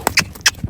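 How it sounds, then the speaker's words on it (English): A loose horse gallops past, giving a quick burst of a few sharp hoofbeats on the ground, close and brief. "now I'm going to start with the new horse running by him"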